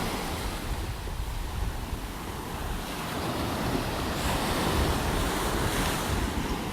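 Ocean surf washes onto a beach in North Naples, Florida, a steady close roar of breaking waves that swells slightly toward the end, with wind buffeting the microphone throughout.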